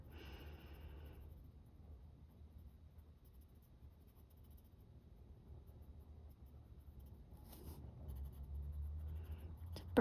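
Light umber colored pencil colouring on paper in an adult colouring book, a faint, continuous scratchy scribbling close by, with a soft low background hum.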